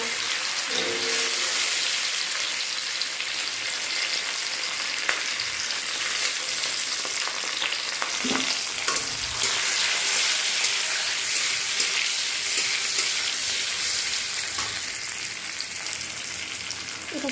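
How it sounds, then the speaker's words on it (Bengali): Soaked cashews and raisins frying in hot ghee with whole garam masala and bay leaves, a continuous close sizzle with scattered crackles and a few light scrapes of a spoon, no talking. "ঘিটা গরম হয়ে গেছে, এরপর কাজু কিশমিশ যেটা ভিজিয়ে রেখেছিলাম ওটা ভেজে নেব।"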